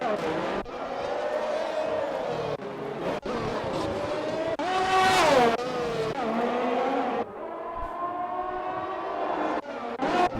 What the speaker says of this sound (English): many cars out on track at the moment